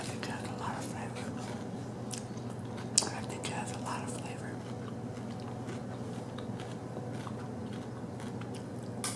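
Soft, close biting and chewing of spicy Popeye's fried chicken, with intermittent crunchy bites and wet mastication under quiet whispering, one sharper crunch standing out early on.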